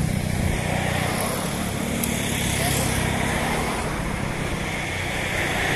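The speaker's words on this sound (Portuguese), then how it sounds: "Tentar dar uma potência aqui no drone." A DJI Mini 1 drone flies near a stalled bridge construction site, its steady high-pitched motor whine mixed with strong wind rush throughout, with no talking.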